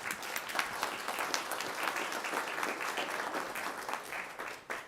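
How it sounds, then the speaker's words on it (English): Steady applause from an audience at a city council meeting, dense clapping held at an even level throughout with no talk over it. "So let's give them a round of applause."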